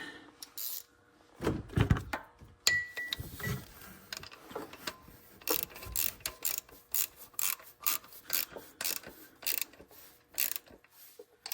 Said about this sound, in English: Grab my ratchet.